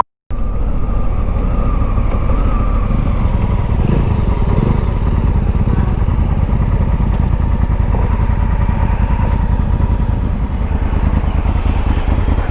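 Several motorcycles, including a KTM Duke, a Royal Enfield Mojo and a Triumph Scrambler, ride along a forest trail near Bangalore, with a continuous loud engine drone close to the microphone throughout.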